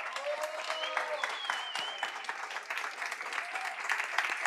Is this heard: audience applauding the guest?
yes